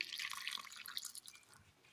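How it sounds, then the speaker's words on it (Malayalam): Hot water poured into rice flour to knead dough for a Kerala coconut snack, a quiet, hissing trickle with faint splashes lasting a couple of seconds. "ഇനി ഇത് കുഴയ്ക്കുവാനായി അല്പം ചൂടുവെള്ളം"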